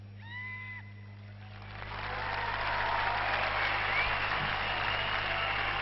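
Steady applause from a crowd at a presidential inauguration, swelling after a quiet start and holding as a broad, sustained clapping wash, heard from a distance.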